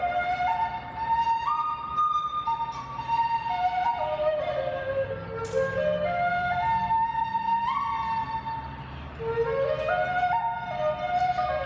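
A replica of a 40,000-year-old prehistoric flute with finger holes plays a wavering, breathy melody of rising and falling notes, clear and sustained for several seconds without speech.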